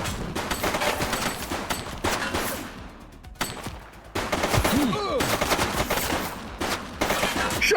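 Several volleys of gunfire crackle in the police video game The Precinct, close and steady across the scene, with a brief lull midway and a whistling sweep over the shots.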